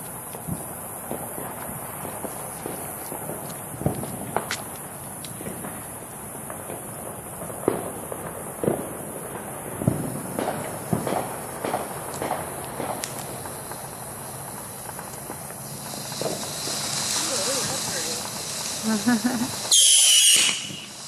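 A fireworks fountain hisses and crackles continuously with scattered pops and bangs, building toward a louder spray before cutting off abruptly.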